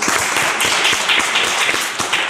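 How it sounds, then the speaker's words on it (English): Audience applause at a startup pitch event after a one-minute founder pitch, a steady dense patter of many hands clapping throughout, moderately loud and close. "Round of applause"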